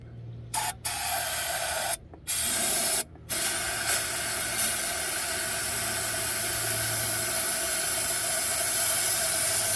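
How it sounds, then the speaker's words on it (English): Aerosol spray hissing steadily into the engine of an AMC project car that sat parked for years, loud and close, with a few brief stop-start bursts before one long continuous spray and no talk. "You want me to spray that in there while you're trying to start it?"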